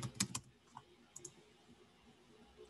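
A few quick keystrokes on a computer keyboard, a small burst at the start then scattered single taps, close and quiet in a hushed room.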